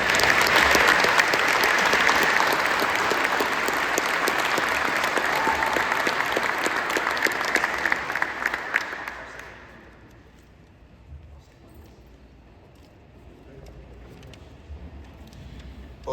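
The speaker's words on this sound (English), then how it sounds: "Can we give a round of applause to Mick?" Loud, dense audience applause at a Minnesota foundation event fills the room for about nine seconds, then fades to quiet room noise with a few scattered claps.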